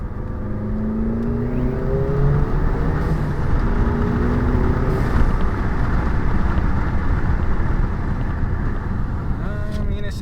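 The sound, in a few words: VW Jetta GLI MK7 turbo engine accelerating in second gear, muffler deleted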